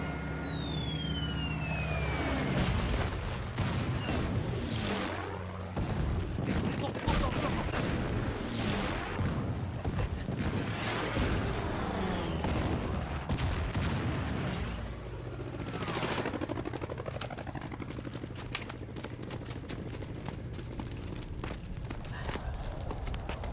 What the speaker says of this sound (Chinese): 现在是轰炸机，肯定会丢炸弹的